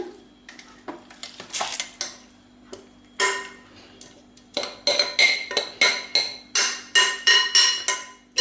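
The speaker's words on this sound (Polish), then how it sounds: "Sorbet mieszamy widelcem." A fork scrapes and clinks repeatedly against a container while stirring frozen sorbet, a close, rhythmic series of short scratchy strokes with no voices.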